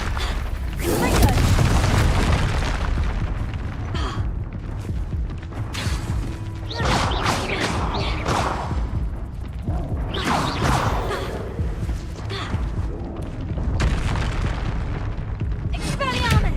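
Confringo blasting spell blasts in Hogwarts Legacy deliver several heavy booms and crashing impacts amid chaotic battle noise, with someone speaking over part of it.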